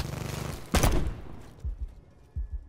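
Spitfire gun firing in Black Ops 4: a rapid burst of shots, a loud blast, then two dull thuds, fairly faint overall.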